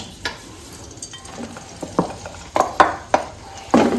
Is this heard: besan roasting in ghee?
yes